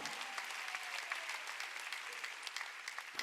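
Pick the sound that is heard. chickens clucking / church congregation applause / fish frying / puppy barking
church congregation applause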